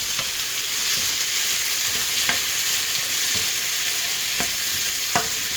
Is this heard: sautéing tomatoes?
yes